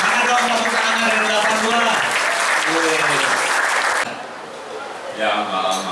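Audience applause at an inspiring talk event, dense clapping for about four seconds alongside voices, then fading to quieter murmurs with a brief renewed burst near the end.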